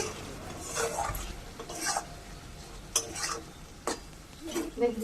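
Fish curry masala stirred and fried in a pan, soft background sizzling broken by a few clinks and scrapes of a spoon against the pan, close and fairly quiet, with no talk.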